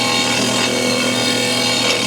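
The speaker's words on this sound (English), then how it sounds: "So I'm gonna finish up the sanding right now" Steady, continuous abrasive rubbing while sanding a wooden part for a custom toilet paper dispenser, close and fairly loud, without pause and with no talking.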